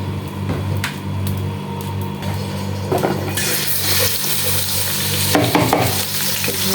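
Onions fry in hot oil for an egg bhuna, a dense crackling sizzle that swells louder partway through, with occasional clatters of a spatula stirring the pan.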